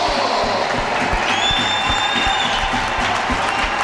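Arena crowd of ice hockey fans applauding at an Edinburgh Capitals versus Nottingham Panthers game, a dense steady wash of clapping with a faint whistle-like tone and low thumps underneath.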